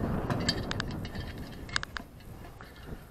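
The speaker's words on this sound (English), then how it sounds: "Take the nut off." Ratchet removing a nut during a Mud Skipper Revolution surface drive build, a few quiet, close metallic clicks spaced irregularly over faint background hiss.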